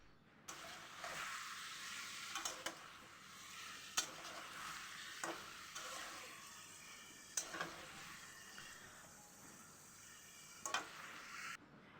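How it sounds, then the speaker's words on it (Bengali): Green chilies and tomatoes fry and sizzle in a pan with a continuous hissing crackle, punctuated by repeated scraping stirs and a few sharp clatters of the spoon against the metal. "আমি এখন নাড়াচাড়া করে কিছুক্ষণ ভাজা ভাজা করে নেব"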